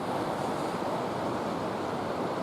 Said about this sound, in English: We are directly along the French Broad River